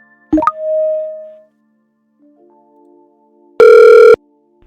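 A short click and tone give way to a soft rising beep, then a loud, buzzy electronic telephone ring sounds once for about half a second.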